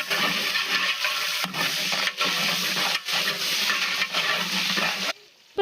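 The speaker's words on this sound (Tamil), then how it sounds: "இப்போ நல்லா வெங்காயம் வந்து வதங்கி வந்துருச்சு" Onions sautéing in a pot for coconut rice, a steady close sizzle with repeated stirring scrapes running through, ending in a brief quiet moment.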